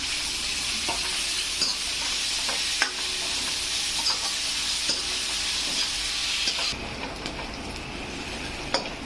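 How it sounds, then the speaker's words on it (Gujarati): Onion, ginger and garlic fry in hot oil with a steady, dense sizzle, broken by occasional stirring clicks and scrapes in the pan; the sizzle eases slightly near the end. "ડુંગળી, આદુ, ત્રણેયને આપણે ફ્રાય કરી લઈશું તેલમાં।"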